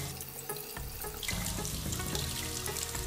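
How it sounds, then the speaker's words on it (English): Warm water runs steadily from a tap, splashing and gurgling as a konjac sponge is rinsed beneath the stream. "I'm going to take warm water, rinse it thoroughly with the warm water"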